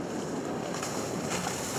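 Formenti ZAR 57 Welldeck boat running at speed, around 4,500 revs and over 30 knots, a steady broad roar of engine, hull and wind on open water.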